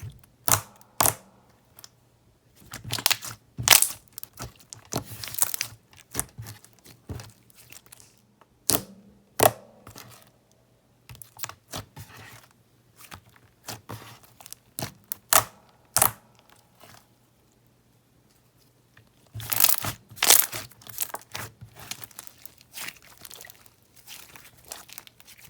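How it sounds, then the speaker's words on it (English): Glossy, very stretchy slime squished by hand gives off bursts of sharp, crisp clicks and crackles in uneven clusters, with short quiet gaps between squeezes and a loud dense flurry near the end. "this slime was very, very glossy, very stretchy, and it made very nice clicks"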